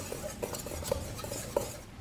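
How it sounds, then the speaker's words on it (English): A whisk stirring dry ingredients for pumpkin spice bagels, including bread flour, salt and pumpkin pie spice, in a bowl, making a soft, close, continuous rustling scrape with a few faint clinks of metal against the bowl. "Combine the dry ingredients with a whisk."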